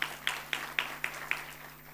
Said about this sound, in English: Round of applause once again for